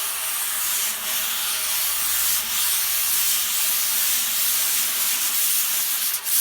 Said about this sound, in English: that was a fair amount of sanding, but again, I wasn't putting much pressure on the paper